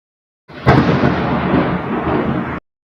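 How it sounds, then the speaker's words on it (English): Thunder rumbles as one sustained, broad roll lasting about two seconds, heard alone with no speech, starting and stopping abruptly. "Sorry for the thunder in the background"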